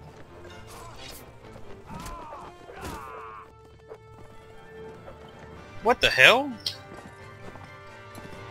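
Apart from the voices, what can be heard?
horse galloping and neighing in video game Mount & Blade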